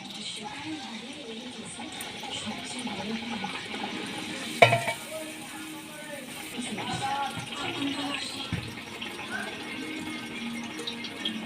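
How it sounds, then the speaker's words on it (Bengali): Green pea kachori fries in hot oil in a kadai with a steady, even sizzle that runs throughout, broken once by a sharp clank partway through. "তেল গরম হয়ে গেছে এবার এর মধ্যে আমি কচুরিটা ছেড়ে দেবো"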